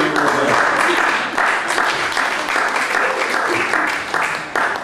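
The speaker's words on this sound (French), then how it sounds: "On peut applaudir de lui." Applause from a church congregation during a bilingual French-English sermon, a dense sustained wash of clapping that holds steady throughout with no clear speech over it.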